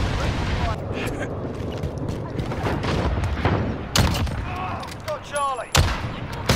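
Call of Duty: Modern Warfare gameplay gunfire, with bursts of shots, sharp blasts and mechanical clatter in a busy, loud mix, plus a few brief whistling tones near the end.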